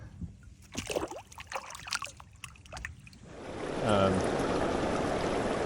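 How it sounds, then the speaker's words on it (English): Fast, high creek after heavy water, rushing in a broad continuous roar that swells and holds steady through the second half, with faint scattered knocks and splashes before it at the water's edge. "check out the creek. It is very high"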